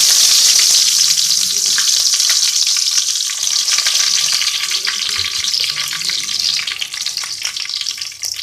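Green chillies and curry leaves frying in hot oil in a pan, a loud close hiss and crackle that eases slightly over time.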